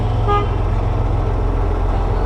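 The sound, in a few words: truck horn honking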